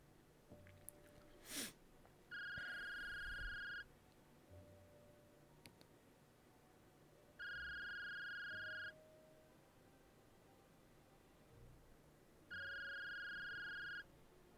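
A telephone rings in a video game, three electronic ring bursts at even intervals, each about a second and a half long, over quiet room ambience.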